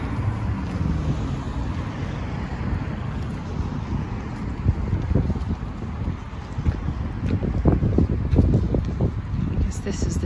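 Wind buffets a microphone during an outdoor springtime walk near a pedestrian bridge, a continuous low roar with gusty swells that grow stronger toward the end.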